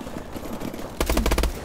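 Rapid bursts of gunfire from a Call of Duty: Advanced Warfare multiplayer match, a loud cluster of sharp shots in the second half after a stretch of quieter game noise.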